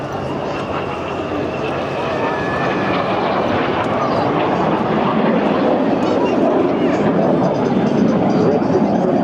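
Red Arrows jets make an opposition pass at an air show trailing white smoke, a loud sustained jet roar that builds steadily over the whole clip.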